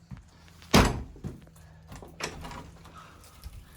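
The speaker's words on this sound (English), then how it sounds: "I think, as I recall, this door opens" An old door in a French renovation property thuds as it is tried, giving one sharp knock followed by a few softer bumps and rattles in a quiet room.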